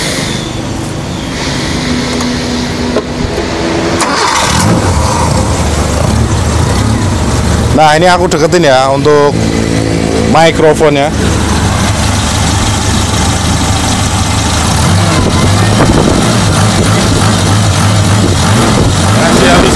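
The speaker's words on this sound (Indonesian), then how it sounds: "Kita tes suara mesinnya." A Suzuki Katana car engine idles steadily and evenly throughout, close to the microphone, with someone talking over it and another voice joining in briefly.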